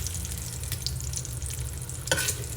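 Southern fried cabbage with bacon and kielbasa sizzles steadily in a pan, a close, continuous frying hiss with a brief louder stir or scrape near the end.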